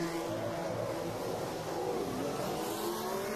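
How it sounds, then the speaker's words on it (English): Formula 1 cars at the 2014 Spanish Grand Prix qualifying head back out on track, a steady mid-pitched engine roar with a rising tone, heard from a distance under broad crowd and ambient noise. "The cars are going back out on track"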